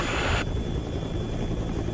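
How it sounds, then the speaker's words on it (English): A helicopter flies above an erupting volcano, its rotors churning a continuous low throb with a brief hiss at the start, steady and fairly close. "But the chopper is ill-suited to the task. Its rotors churn the air and confuse the detection instruments."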